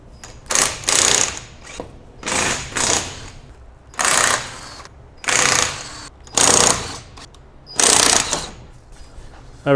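A tool removing a wheel from a car fitted with a 17-inch RR7 wheel fires off about six loud, close mechanical bursts, each roughly half a second to a second long, separated by short quiet pauses.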